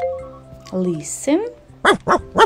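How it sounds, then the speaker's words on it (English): A dog barks three times in quick succession near the end, after a person speaks briefly over a background tone. "This is a dog."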